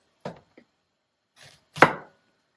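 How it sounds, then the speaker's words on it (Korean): A knife chops skin-on apple into small cubes on a board: a few crisp, isolated cuts, the last one the loudest, with quiet gaps between. "사과는 이렇게 조그맣게 깍둑썰 게 하고요"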